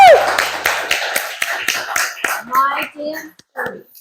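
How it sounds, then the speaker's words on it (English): Audience applause at a speaking club event, loud at first, then thinning into scattered, separate claps that fade out over a few seconds. "So give a big round of applause."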